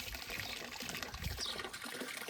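Water runs steadily into a livestock trough, a soft continuous pour and trickle heard faintly at a distance with no break.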